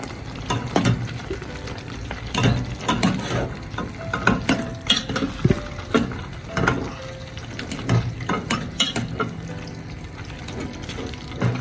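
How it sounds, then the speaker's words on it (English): Vegetables are stirred back into a sizzling pot for an African dish, producing repeated close scraping and clattering strokes over a steady frying hiss, with no one speaking. "You add back your vegetables and mix it up."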